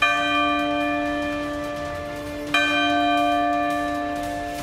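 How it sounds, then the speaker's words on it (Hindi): Division bells ring in the Pakistani National Assembly ahead of a confidence vote for the prime minister: a steady, loud electric bell tone that carries on throughout, with a fresh strike midway and no talk. "इससे पहले 5 मिनट के लिए घंटियां बजाई गई।"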